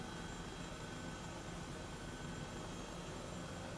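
Airbus H135 helicopter engine in Microsoft Flight Simulator, a steady, faint, even turbine-and-rotor drone with no changes in pitch or level.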